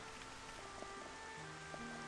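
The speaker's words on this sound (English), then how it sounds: "Oh, and now it's raining." Steady light rain patters across the ground in the video game Xenoblade Chronicles, a soft, even hiss with scattered drips and a faint background drone, no voices.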